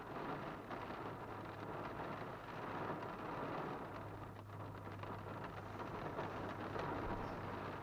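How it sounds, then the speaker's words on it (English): Rain falls steadily outside, a soft continuous patter heard faintly from indoors as a constant wash with no voices. "You can probably hear the rain outside."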